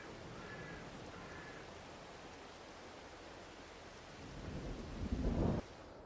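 Steady rain hiss in a video game farming map, with a deeper rumble of thunder swelling near the end before fading.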